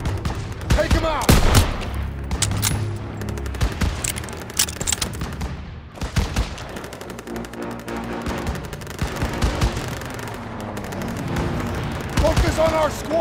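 Dense World War II battle gunfire in Call of Duty: WWII, rapid rifle and machine-gun shots with booming impacts, close and continuous, with shouted voices mixed in.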